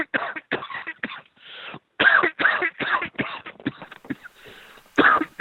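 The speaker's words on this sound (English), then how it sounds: "You're coughing." Someone coughs and clears their throat close to the microphone during an online Tekken tournament stream, a rapid series of harsh bursts with short pauses between them.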